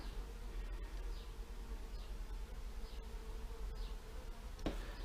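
Bees buzz in a steady, busy drone with occasional individual insects flying past, close by, with light clicks and no voices.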